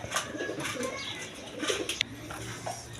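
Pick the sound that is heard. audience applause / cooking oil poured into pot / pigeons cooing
pigeons cooing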